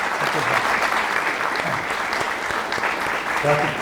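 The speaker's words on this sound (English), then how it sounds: "Y'all just give him a little hand clap" Dense, steady hand clapping from a seated audience at a talk event honoring John Carlos and Tommie Smith, sustained and even throughout with no pauses.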